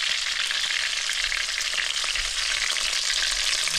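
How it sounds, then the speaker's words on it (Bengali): Tuna fish pieces frying in hot oil give a steady, dense sizzle that holds at an even loudness throughout, with no voices over it. "আমার মাছটা প্রায় ভাজা হয়ে গেছে"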